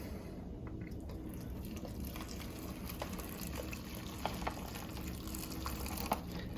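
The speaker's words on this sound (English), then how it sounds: "pouring the water now" Hot water at about 195 degrees pours steadily into a Mountain House chicken and dumplings meal pouch, a soft continuous trickle with a few small drips and splashes, close and quiet.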